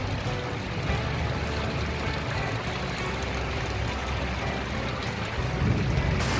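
Steady rain falls on trees after a storm, a continuous soft wash of patter heard at a distance and fairly faint, with no talking.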